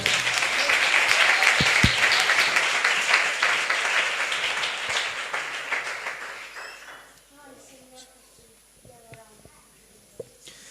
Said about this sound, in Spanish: Ese fuerte aplauso para Dios, por favor.